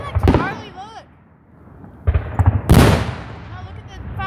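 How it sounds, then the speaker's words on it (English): Fireworks go off outdoors in loud cracking, booming bursts with crackling tails, separated by short gaps, while people talk nearby. "look at the fireworks"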